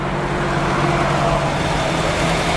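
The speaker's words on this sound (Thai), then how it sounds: "รอบนิ่งนะครับปกตินะครับไม่สั่นนะครับ" A 2010 Honda City with an automatic gearbox idles steadily, giving a smooth, even engine hum with a low, constant drone and no variation, heard up close without voices.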